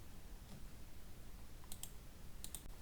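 Faint computer mouse clicks at a desk, a few sharp close double clicks over a quiet background hiss.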